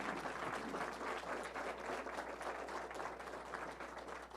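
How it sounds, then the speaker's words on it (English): An audience at a county attorney candidate town hall gives a round of applause, a continuous, even wash of many hands clapping, heard faint and distant throughout. "I want to thank, with another big round of applause, all of our candidates for participating"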